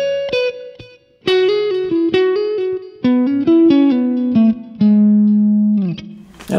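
An electric guitar plays a major-scale melody one note at a time, with clean single plucked notes in a halting rhythm that ring out separately with a light effect.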